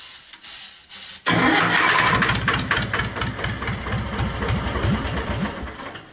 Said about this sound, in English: That's a running diesel engine, baby.